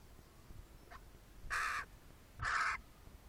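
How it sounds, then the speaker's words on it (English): A young crow squawks twice for food, two harsh, loud caws close by, each lasting about a quarter second and spaced about a second apart, with a faint call before them and no talking. "this one here needs a bit of encouragement to start squawking"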